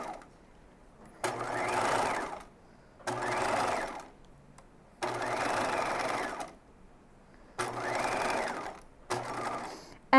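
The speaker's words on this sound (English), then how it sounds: "We're on a straight stitch, and I'm going to back stitch at the beginning" A sewing machine straight-stitches a dart in fabric, running in four steady bursts of whirring with short pauses between them, close and clear with no talk.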